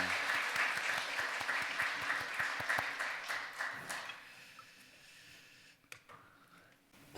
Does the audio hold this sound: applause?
yes